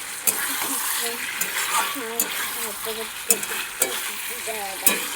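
Banana pieces sizzle steadily in a frying pan while a utensil stirs and scrapes, with sharp metallic clacks every second or so and a voice talking over the frying.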